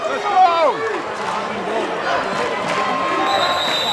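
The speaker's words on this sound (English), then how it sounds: "Crowd sound is back on" Crowd noise fills a packed gym at a WIAA boys basketball sectional game between Wauwatosa West and Brookfield Central, a steady babble with sneaker squeaks and a ball bounce, heard under close play-by-play commentary.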